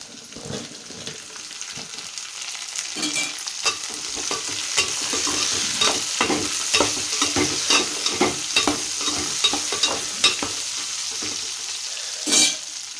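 Sliced okra and browned onion pieces sizzle loudly in a hot pan, with a steady frying hiss broken by repeated scraping stirs from a spatula, close up and without speech.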